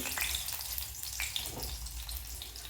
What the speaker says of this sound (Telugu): ఆయిల్ వేడెక్కింది. వెల్లుల్లిపాయలు,